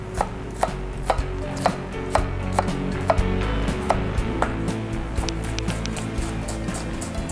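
Knife chopping shallot on a board: a steady series of sharp, close cuts at an even rhythm over low kitchen background hum, no talking.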